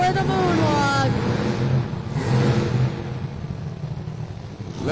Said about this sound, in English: He is walking that Monster Jam truck all the way to the end. Kicks it into reverse for the moonwalk.